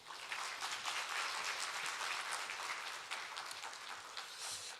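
A church congregation claps to welcome the pastor to the pulpit at an early-morning worship service, a soft, steady round of applause from a distance that lasts a few seconds and tapers off.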